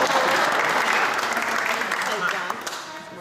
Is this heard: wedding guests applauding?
yes